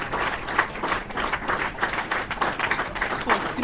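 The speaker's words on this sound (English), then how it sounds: "Please, let's continue to clap." Keynote audience at the Ibadan Book and Arts Festival clapping steadily, a dense continuous patter of many hands at moderate distance holding even for several seconds.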